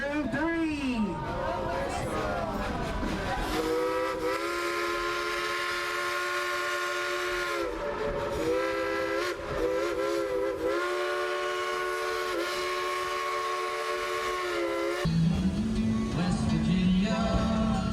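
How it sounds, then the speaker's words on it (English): A steam train's whistle at Dollywood blows in long sustained steady tones, loud and close, with a brief pitch swoop at the start and a lower shift near the end, over constant crowd and ride noise. "let's also blow the whistle"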